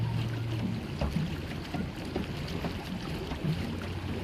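A paddle boat on the water at Monterey churns along with steady splashing and a low, rhythmic drone under gusty wind noise, continuous and close, with no voices.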